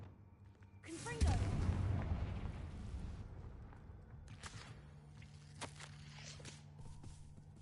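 A Confringo blasting spell bursts in Hogwarts Legacy with a sudden loud boom and a fading rumble, followed by quieter footsteps and scattered thuds while a voice speaks.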